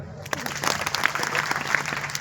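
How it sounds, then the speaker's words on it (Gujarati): A village crowd gathered at the Rameshwar Mahadev temple claps steadily in dense, continuous applause for a young boy named Sahil, filling the space with sustained hand-clapping. "સાહિલ માટે તાળી પાડો."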